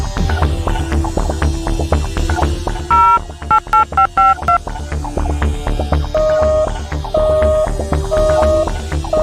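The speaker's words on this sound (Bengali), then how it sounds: "ফোন তো এঙ্গেজ।" A telephone is dialed, with a run of short electronic keypad tones followed by a repeating busy signal beeping at a steady rhythm, loud and close over a low background hum, with no talk.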